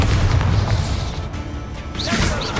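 The Bombarda explosion spell in the video game Hogwarts Legacy gives a loud booming blast with crashing debris and whooshing rumble, filling the whole moment up close.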